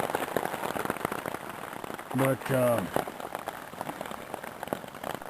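Heavy rain drums on a tarp stretched over a hammock camp in the Nebraska Sandhills, a dense, close patter throughout, with a brief voice speaking in the middle.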